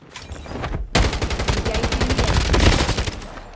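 Colt pistol fire in a shooter video game tournament match. A short burst comes first, then a dense, rapid string of close, loud shots runs almost without pause.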